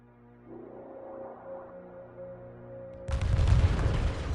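Spaceship sweeper cannons in the space strategy game Homeworld fire during a fight against swarmers, a low droning hum giving way to a sudden loud rumbling barrage of booms that carries on to the end.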